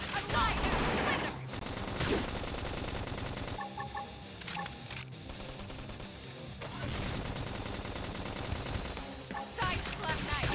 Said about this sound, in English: Knock them over with gunfire.